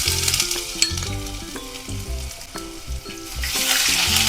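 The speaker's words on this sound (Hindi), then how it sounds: "अब हम इसमें ये कुटा हुआ अदरक और लहसुन डालेंगे" Crushed ginger and garlic fry in a pan with whole spices, a steady close sizzle with stirring and scraping throughout, continuous and loud with no talking.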